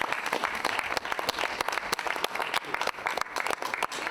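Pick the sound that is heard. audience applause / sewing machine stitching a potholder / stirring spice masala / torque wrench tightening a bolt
audience applause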